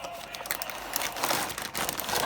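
Close, continuous crinkling and rustling of a plastic bag of 1:32 scale Airfix toy soldiers being handled and pulled open.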